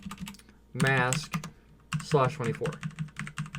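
Keys clatter on a computer keyboard while router network configuration commands are entered, a quick run of soft taps under a voice speaking close to the mic.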